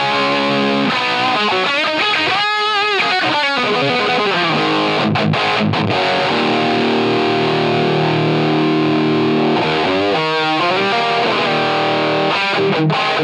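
An electric guitar played through a Crayon overdrive pedal gives a saturated, gritty tone, mixing fast note runs with sustained chords and held notes over about thirteen seconds, loud and continuous.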